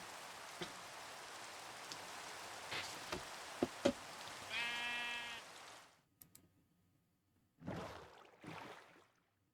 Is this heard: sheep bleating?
yes